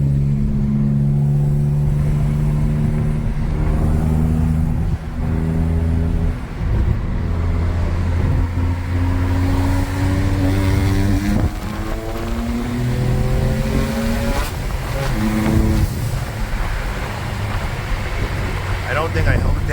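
A BMW 335i with the N54 engine and six-speed manual accelerates hard in third gear at night, loud engine tone climbing steadily in pitch with a brief shift, someone talking over it from inside the car.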